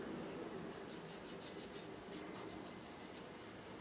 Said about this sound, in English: Just kind of putting some witness marks all around it.